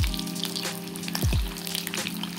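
Boiled potatoes and eggs fry in hot oil, a continuous bubbly sizzle with crackles and a couple of sharp spatters partway through, close and fairly loud.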